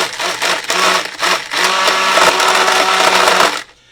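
A food processor pulsing chopped apples for apple butter: a loud, harsh whirring motor in several short bursts that then runs continuously before cutting off, with no talking.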